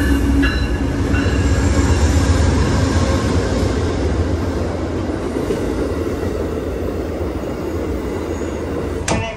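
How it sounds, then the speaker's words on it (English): An Amtrak Silver Star passenger train pulling into a station, a loud steady rumble of wheels on rails with faint squeals and clatter, rolling continuously close by. "So guys, that's our train."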